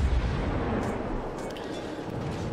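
Warship cannon salvos firing at an enemy Emden cruiser in a World of Warships naval battle, a loud continuous rumbling barrage of booms with low-end weight throughout, no voices.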